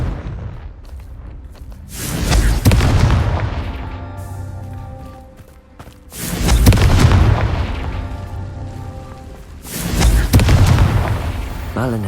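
In the Hogwarts Legacy video game, the Confringo spell sets off three deep, booming explosions a few seconds apart, each a loud burst that rolls on with rumbling debris and fades.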